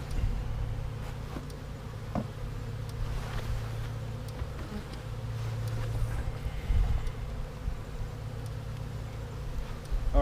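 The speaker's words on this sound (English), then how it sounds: "where you see bees across the whole hive" Honey bees from a package colony buzz steadily around an open hive, a dense continuous drone that stays close and fairly loud throughout, with a few brief handling knocks and no talking.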